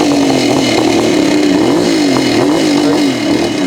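A 1974 Kawasaki H2B 750cc motorcycle engine runs loud and close, a steady raw roar with rising and falling revs throughout and no speech.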